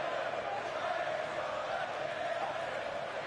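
Steady, dense crowd roar and chanting from a wrestling arena audience in WWE 2K16, a continuous wash of many voices at an even level throughout.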